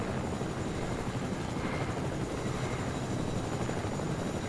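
A helicopter in Fortnite drones steadily with a dense, broadband rotor wash that holds constant and loud for the whole stretch, with no voices over it.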